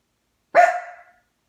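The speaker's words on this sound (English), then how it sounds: "stop barking please Jack, stop" A single sharp dog bark rings out close and loud, with a short tonal tail fading over about half a second, preceded and followed by silence.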